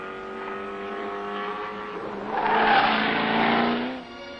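Race cars at the 1975 Bathurst race, a Holden driven by Peter Brock and Brian Sampson among them, drone past in a steady engine whine that swells louder as a car goes by, then fades.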